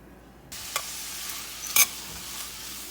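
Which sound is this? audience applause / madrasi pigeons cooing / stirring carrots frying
stirring carrots frying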